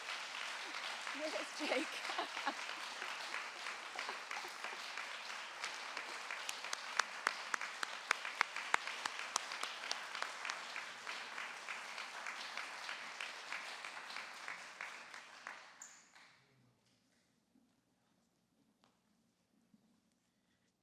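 An audience at an awards ceremony applauds an award winner being welcomed. The clapping is sustained and moderately loud for about fifteen seconds, then fades to near silence, with a brief voice heard near the start.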